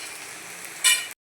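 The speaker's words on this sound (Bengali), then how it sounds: "তো আলুটা ভাজা হচ্ছে" Potatoes fry in a pan for a fish curry, making a steady close sizzle that swells into a brief louder burst of crackling before cutting off.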